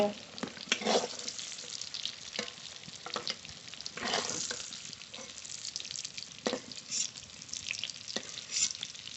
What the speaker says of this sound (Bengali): ঢোকা খুব ভালো করে ভেজে নিয়েছি নামিয়ে নেব